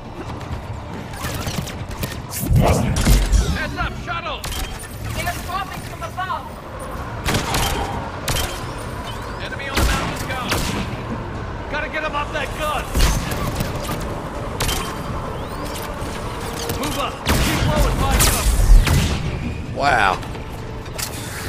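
Gun shots in the video game Mass Effect 3, sharp loud reports fired at intervals amid mechanical game noise and booms, with a person talking between and over them.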